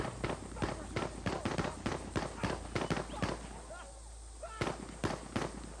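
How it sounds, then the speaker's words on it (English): Gunfire in an online shooter game set in Australia, rapid sharp bursts of shots, some close and some farther off, with players talking over the action. "Getting shot at."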